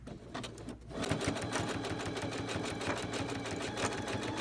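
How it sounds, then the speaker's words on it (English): Sewing machine stitching binding onto a reversible T-shirt quilt, a steady, fast, continuous mechanical whir and needle patter that starts after a brief pause and runs on at even speed. "we're just going to sew a little bit more"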